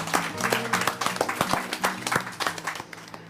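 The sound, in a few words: applause for the chef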